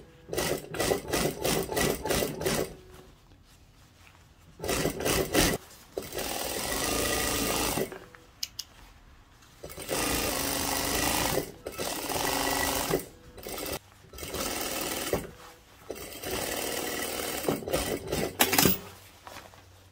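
A sewing machine runs in repeated bursts of steady, whirring stitching, separated by short pauses, as it sews a guideline along the curved hem of a shirt dress.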